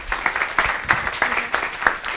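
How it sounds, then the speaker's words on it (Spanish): A crowd applauds a participant at a design talk event, a lively, close burst of many hands clapping with sharp individual claps standing out throughout. "Un aplauso para Rafa"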